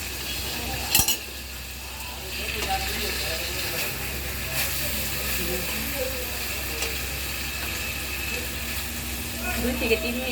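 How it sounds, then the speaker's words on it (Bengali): Koi fish being sautéed with spices in a pan, a continuous close sizzle and frying hiss with occasional clinks of a utensil against the pan, a voice talking underneath. "মাছটা একটু মশলার সাথে কষিয়ে নিব 2 থেকে 3 মিনিট।"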